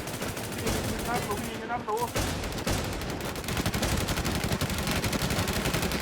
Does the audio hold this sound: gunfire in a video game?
yes